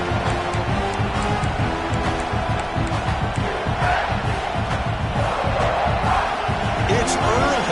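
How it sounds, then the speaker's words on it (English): Fired-up crowd at a college football game, a dense, steady roar of many voices with chants and shouts, loud and continuous throughout, with talk mixed in. "It's early, but this crowd is fired up. Listen to this noise here."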